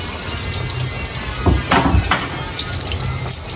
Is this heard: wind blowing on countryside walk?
no